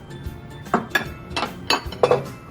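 Panko breadcrumbs mixed together in a bowl for coconut shrimp breading, giving a few scattered clinks and scrapes of a utensil against the bowl, fairly close and moderately loud, with no talking.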